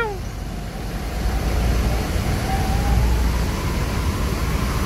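A bus exhaust gives a deep, steady low rumble up close, swelling slightly and holding loud throughout.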